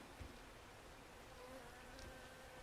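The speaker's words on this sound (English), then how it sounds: "And the bees are working." A steady insect buzz from bees around beehives in 7 Days to Die, faint but continuous, with no one speaking.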